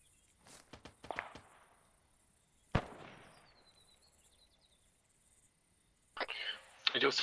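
A few sharp gunshots crack in the Arma 3 military simulation, one loud close report followed by a decaying tail and a cluster of quick shots at the end, with faint game ambience and insect chirps between them.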